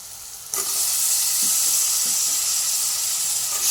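Vegetables for dal rice sauté in a hot pan with a loud, steady sizzle that starts abruptly and holds, with faint stirring knocks and no talk.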